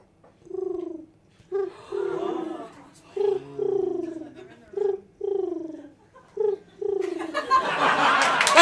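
A person imitates a London pigeon at a bird noise contest, making a string of low, throaty cooing pulses with short gaps between them. Laughter and audience noise swell at the end.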